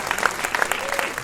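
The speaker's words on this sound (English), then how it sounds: "Can I just ask for a round of applause for the kids" Audience applause for child actors at a South Asian film festival Q&A panel, a dense, steady burst of clapping from a crowd filling the room at moderate loudness.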